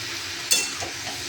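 Hilsa fish curry with bottle gourd sizzles steadily in a pan as it is stir-fried, with a brief scrape of the spoon stirring through the constant frying hiss.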